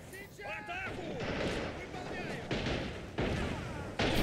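Submachine gun fire rattles in a World War II strategy game shootout, PPSh-41 against Suomi, with repeated bursts and sharp cracks under continuous excited commentary.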